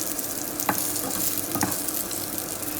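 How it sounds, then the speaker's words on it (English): Chorizo frying slowly in its own released oil in a pan, a steady broadband sizzle with two brief stirring scrapes, close and moderately loud with no talking. "there's some oil in the pan now, I haven't put any in there. It's just all starting to come from that chorizo."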